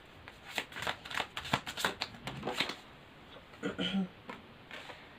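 Tarot cards are shuffled and drawn from a deck in quick riffling bursts, close and crisp, with a pause before a few more card flicks.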